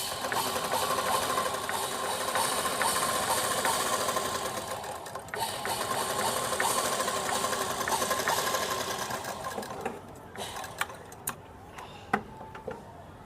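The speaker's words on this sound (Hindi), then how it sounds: "हम एक सीधी सिलाई चला लेंगे।" A sewing machine runs a straight stitch along a seam of a top sewn from leftover fabric, a steady close whirring drone lasting about ten seconds before it halts with a few scattered clicks.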